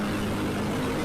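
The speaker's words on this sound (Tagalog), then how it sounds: "Yung mga maririnig kayo ng mga ingay ng mga motor," Dense traffic on Roxas Boulevard in Metro Manila, with motorcycles, cars and trucks, forms a continuous, even roar of engine and road noise, nearby and moderately loud.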